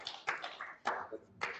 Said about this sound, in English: So if you agree that he has done a fine job, clap for him.